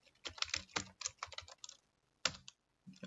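Quick bursts of keyboard typing, key clicks clustered in short runs with a brief pause, close and fairly quiet.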